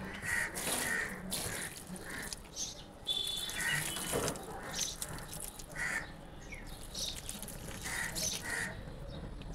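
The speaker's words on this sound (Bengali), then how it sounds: "চলো দিয়ে নিই জল" Water splashes steadily onto potted plants, including flowering and chili plants, in an outdoor garden while crows caw repeatedly nearby.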